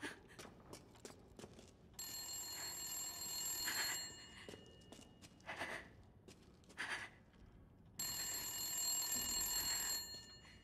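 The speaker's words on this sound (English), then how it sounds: "Where's the phone ring?" A telephone rings in Resident Evil Village: two long bursts of a bright, trilling bell, a few seconds apart. Between them come scattered footsteps and faint shuffling in a quiet room.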